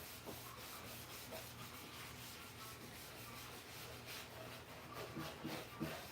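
Steady dry brushing of natural wax onto a wooden Art Deco magazine rack, a continuous close scratchy rubbing with a few louder strokes near the end, no voices.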